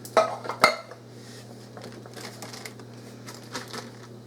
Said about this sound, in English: So I'm going to add a can of whole kernel corn.